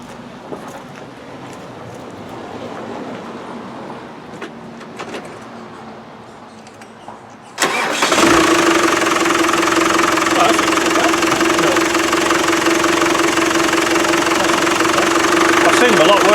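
A Land Rover 300Tdi diesel engine cranks and catches around the midpoint, then runs at a loud, rough, steady idle with a knocking, vibrating clatter after a quieter stretch of background noise.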